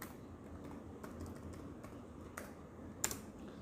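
A computer keyboard being typed on while entering a password, with a handful of soft, sparse key taps over a few seconds, one sharper click near the end; close and quiet.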